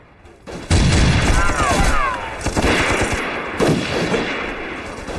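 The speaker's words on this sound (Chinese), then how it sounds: "金花，你打当官的，我打机枪手。" Machine gun fire in a war film set during the fight against Japanese troops: loud, rapid bursts that break in suddenly and keep rattling close by, with a brief shout among the shots.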